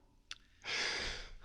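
Upper-chest breathing: a short breath at the start, then a long, airy sighing exhale that holds steady for most of the clip, close and with no talk over it.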